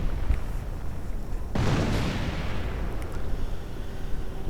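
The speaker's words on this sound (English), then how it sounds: "More artillery getting called in this time against the Panzer Command." Artillery fire in a World War II real-time strategy game, with shells called in against a German Panzer command position: one heavy blast bursts in at about 1.5 seconds and rumbles on over steady background game noise.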